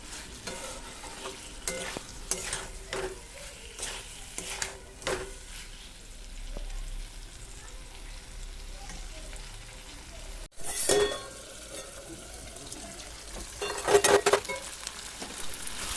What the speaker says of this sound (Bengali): তাই আলুগুলোকে ভালো করে নেড়ে নিচ্ছি আর ঢাকা দিয়ে দেবো এর মধ্যে।